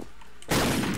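A headshot gunshot in a shooter video game: one sudden loud blast after a quiet lead-in, followed by a sustained burst of sharp, dense fire and rumble that fills the rest of the moment.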